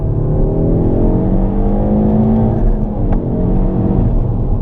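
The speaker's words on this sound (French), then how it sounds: "Bon, on va essayer l'accélération en deux." A Peugeot 308 GTI with 270 hp pulls hard in second gear, its engine note droning loud and close and rising steadily in pitch under full throttle, with no voices over it.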